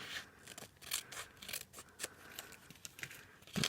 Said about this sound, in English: I'll just take my paper trimmer or my paper snips, which I have right here, and we'll go ahead and trim off that excess